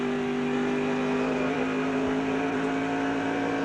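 A NASCAR race car engine roars in a steady, loud, high drone with no talk over it, as heard from the on-board camera of the Pennzoil car running in the pack during a 1992–93 race.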